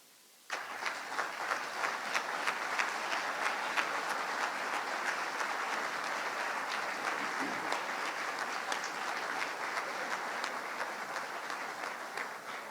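Sustained applause from an audience at a Boston University Hall of Fame induction ceremony as past inductees stand, steady clapping filling the room for over ten seconds after a sudden start.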